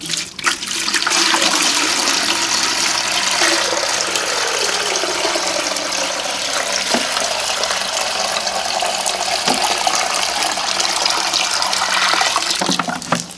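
Water pours steadily and loudly into a bucket for the whole stretch, a continuous gushing rush whose pitch shifts as the bucket fills. There is no talking.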